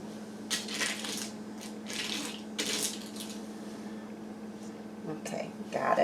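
Kitchen tap water runs in short, close bursts as something is rinsed off partway through mixing softened cream cheese for a garlic bacon cheese log, splashing intermittently over a steady low hum with faint clatter near the end.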